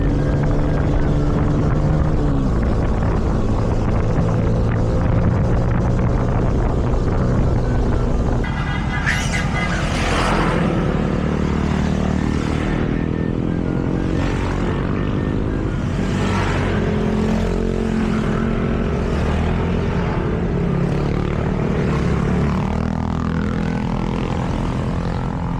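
A motorcycle engine drones steadily throughout a ride, loud and close, with no music and only brief bursts of voices.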